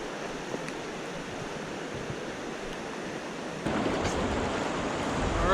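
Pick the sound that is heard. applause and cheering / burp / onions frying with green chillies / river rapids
river rapids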